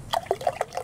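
A water spring in the video game Frontiers, a few quick liquid drips and splashes in a short irregular patter, close and fairly soft.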